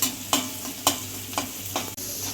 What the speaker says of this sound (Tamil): கடுகு வச்சுட்டு கருவேப்பிலை, இந்த கடலப்பருப்பும் இதில் போட்டு நல்லா வதக்கிக்கலாம்.